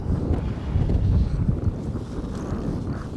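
Strong outdoor wind buffets and rumbles against a microphone mounted on top, a loud continuous roar with gusting swells and no talking.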